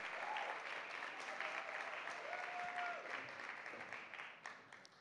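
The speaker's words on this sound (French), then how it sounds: "On les applaudit chaudement." Warm audience applause at a gala honoring women, a dense, sustained wash of many hands clapping at moderate distance that holds steady for about five seconds and eases slightly at the close.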